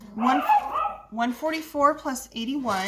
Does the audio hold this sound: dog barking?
yes